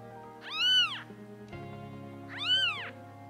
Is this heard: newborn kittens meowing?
yes